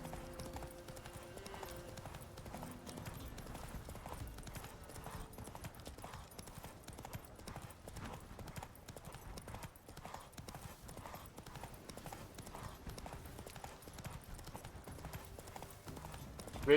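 Horse hooves clip-clop steadily under a rider in The Witcher 3 game, a quiet, even rhythm of hoofbeats that continues throughout with faint ambient game sound.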